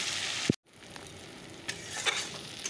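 Chopped onion, tomato, garlic and green chili fry in a hot pan with a steady crackling sizzle, briefly broken by a knock and a short pause before the frying noise resumes alone.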